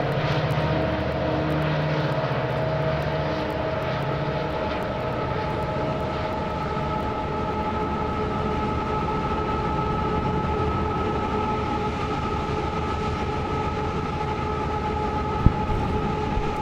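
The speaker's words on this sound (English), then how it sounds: "riding aboard the lead locomotive of a freight train gives you a whole new appreciation for trains" Steady rumbling drone inside the cab of a freight train's lead locomotive, loud and continuous, with sustained engine tones and a brief sharp click near the end.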